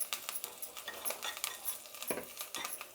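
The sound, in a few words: stirring batter mixture with asafoetida and turmeric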